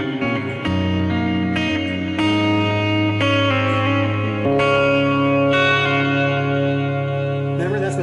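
An electric guitar played through a BOSS eBand set to a distorted tone with no modulation sounds out sustained chords and notes, loud and close, with no talking.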